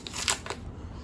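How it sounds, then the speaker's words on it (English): Tape being picked and peeled off a comic book package, giving a few short, close crackling rips within about a second. "some of the tape I'm having to pick off."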